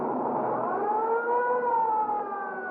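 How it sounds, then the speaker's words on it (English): Wailing ambulance siren in a vintage noir crime radio drama, a steady rising and falling tone that holds loud and continuous throughout, with no voices over it. "The ambulance is on its way now and be here in 2 minutes or less."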